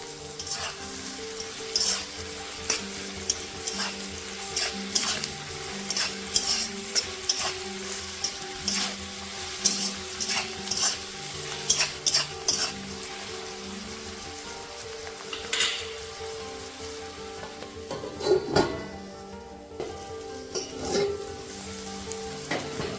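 Onions frying with salt in a pan for Bengali mutton kosha, a steady sizzle under background music, broken by repeated sharp clinks and scrapes of stirring spaced irregularly throughout.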